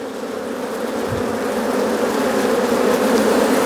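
Honeybees from a shook swarm buzz in a dense, steady drone close by, growing slightly louder over a few seconds with no voices.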